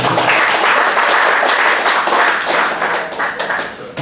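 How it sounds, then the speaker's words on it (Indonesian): An audience at a university event in Sorong claps loudly and steadily, with dense overlapping applause that eases slightly toward the end. "Ya, tepuk tangan."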